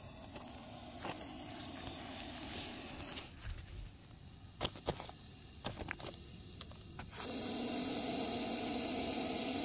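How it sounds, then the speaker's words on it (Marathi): An Indian Russell's viper hisses from inside a bag: a loud, sustained breathy hiss that breaks off into a quieter stretch with a few sharp clicks and rustles, then returns strongly and steadily. "असा कुकरच्या शिट्टीसारखा तो आपल्याला चेतावणी करत असतो"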